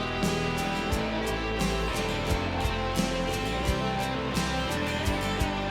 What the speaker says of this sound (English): I've sent it to a guitar amp with spring reverb on it